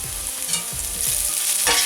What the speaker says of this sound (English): keep stirring it for about half a minute or so